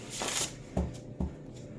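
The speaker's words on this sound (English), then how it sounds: "I don't know why I need to shuffle them again." Yule Oracle cards are shuffled by hand close up, with a soft riffle followed by two sharp slaps of the deck in quick succession, quiet and without talk.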